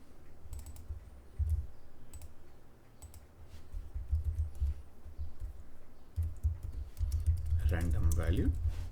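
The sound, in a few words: typing on a computer keyboard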